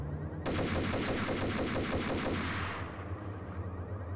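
Sustained automatic gunfire in a video game, loud rapid bursts of shots with a rolling rhythm for about two and a half seconds before easing off into a lighter rattle.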